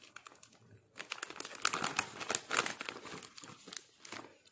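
A plastic sheet mask packet crinkles and rustles close up as it is handled, pulled out and torn open, in a burst of dense crackling after a quiet second.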